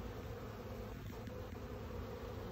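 Honeybees in a hive during a queen-release hive check, a faint, steady, low buzzing hum throughout, with no speech.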